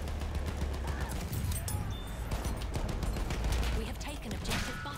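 Battlefield 1 gunfire on the Suez map around a heavy tank: a dense, continuous rattle of shots and battle noise, with a voice talking over the fighting.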